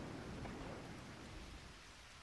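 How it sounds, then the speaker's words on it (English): Steady heavy rain with a low thunder rumble in the video game Eternal Sonata, a dense continuous wash of noise that slowly eases off. "It's starting to thunder now, too."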